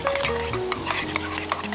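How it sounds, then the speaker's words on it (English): Homemade tartare sauce being stirred after a squeeze of lemon, a steady close scraping and mixing with light clinks of a utensil against the bowl, alone without talk. "Got your lemon in, give it a mix."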